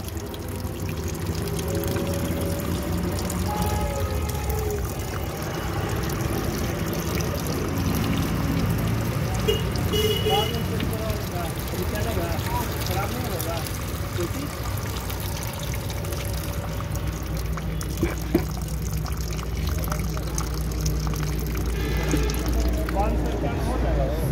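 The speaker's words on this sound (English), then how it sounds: "Now we are getting the fresh water." Fresh water pours steadily through a car radiator after the old coolant is drained, a continuous close splashing trickle that runs the whole time while someone talks over it.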